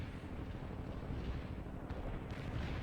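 Artillery shells landing in a World in Conflict battle: a dense, continuous low rumble of distant impacts and rolling booms, steady and muffled, with no voices.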